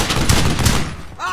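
Loud machine gun fire in the WWII shooter game Brothers in Arms: Hell's Highway, a sustained burst of rapid shots that cuts off after about a second.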